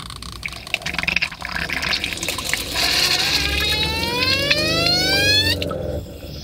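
Water rushes through a hose hooked up to a sailboat's plumbing to test the water heater supply, with a steady gush whose pitch climbs as it fills, then cuts off abruptly near the end.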